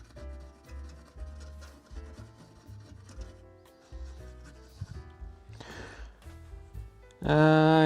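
Cleaning the surface of a Commodore 64 circuit board by hand, a series of soft, irregular rubbing and scrubbing strokes, fairly quiet and close, with a louder burst of noise near the end.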